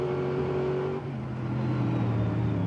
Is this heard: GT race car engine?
yes